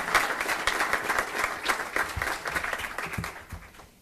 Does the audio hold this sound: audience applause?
yes